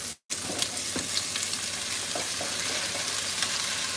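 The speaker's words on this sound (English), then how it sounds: "I'm gonna fry all this up here." Salchichón, a hard salami, and cooking ham fry in a pan with a steady, close sizzle and scattered light crackles, after a brief silent gap at the start.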